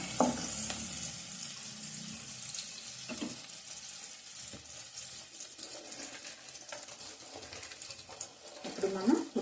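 Green chilies fry in oil in a pan for a brinjal curry, a quiet steady sizzle with occasional clinks and stirring, faint and continuous throughout.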